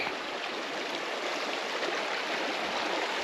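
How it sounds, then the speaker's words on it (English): Rio Chiquita Creek in New Mexico, a trout stream, flows in a steady, continuous rush of water, close and fairly soft, with no voices over it. "We're also on a creek. This is the Rio Chiquita Creek."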